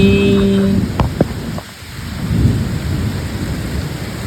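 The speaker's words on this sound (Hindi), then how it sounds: "और आज तो बिजली भी कड़क रही है।" A thunderstorm: a sharp crack and rumble of thunder cuts through continuous heavy rain, which keeps drumming steadily afterward.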